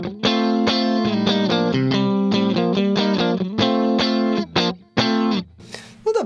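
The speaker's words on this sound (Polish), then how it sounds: "Dzięki czemu będzie miał właśnie ten lekki przesterek." An electric guitar plays through a Laney IRF-Loudpedal amplifier with light overdrive, giving loud, sustained chords and single notes in a rhythmic run that ends in a brief fade.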